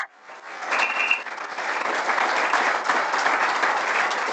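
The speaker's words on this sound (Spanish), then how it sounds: "te podemos darle un aplauso muy merecido" Applause rises quickly from a conference audience after a talk on submarine communication cables, settling into steady, moderately close clapping that continues evenly with no speech.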